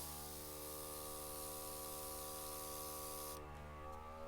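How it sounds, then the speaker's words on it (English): An airbrush sprays a steady, close, loud hiss of weathering paint onto a model railway wagon, running continuously before cutting off near the end over a faint compressor hum. "So we'll start the airbrush."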